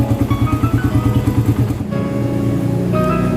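A Suzuki Raider 150 motorcycle engine idles up close to warm up, a loud, rapid, rhythmic putter that smooths into a steadier drone partway through.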